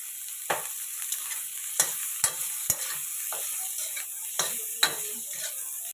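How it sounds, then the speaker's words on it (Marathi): Bitter gourd roasting on a hot tawa gives a soft, steady sizzle, with scattered sharp ticks and scrapes as the pieces are turned. "याच तव्यामध्ये आपण काय करूया कारलं भाजून घेऊया"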